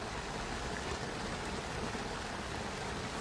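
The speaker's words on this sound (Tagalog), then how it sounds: "Hala, umuulan na." Steady hiss of rain falling, a constant even wash of sound with no voices and no breaks.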